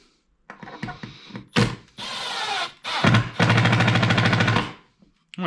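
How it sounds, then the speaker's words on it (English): A drill/driver runs a screw into clamped wood, with a pilot hole drilled first, in several loud bursts of revving and ratcheting, with thunks in between and a long final drive before it stops. "and drive a screw into it."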